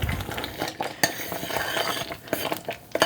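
A spoon works through cranberry sauce breaking down to a mush in a pot on the stove, giving steady scraping and clinking against the pan walls with a soft bubbling underneath.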